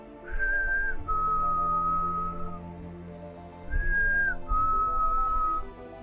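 Negan's signature whistled tune from The Walking Dead, clear and close, a few sustained notes with short upward slides, repeated twice with a brief pause between phrases.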